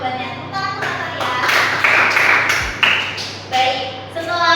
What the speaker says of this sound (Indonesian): Tepuk tangan untuk Natalia.